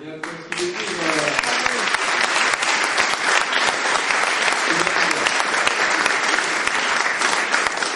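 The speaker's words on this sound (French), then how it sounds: "on va applaudir à nouveau Beñat" An audience at an award ceremony in Bayonne gives Beñat a full, sustained round of dense applause that carries on without a break.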